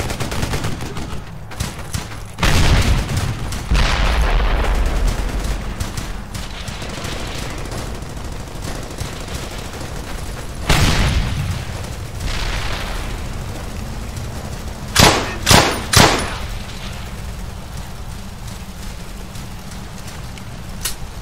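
Battlefield gunfire and explosions in the WWII shooter Brothers in Arms: Hell's Highway: sustained rifle and machine-gun fusillades with heavy booms, then a quick burst of three sharp, loud blasts near the end.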